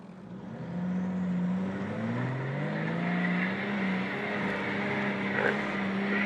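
A Dakar 2025 rally vehicle on the final stage revs its engine to push through sand: a loud, droning engine tone that climbs and dips as the throttle is worked, steady throughout with no voices.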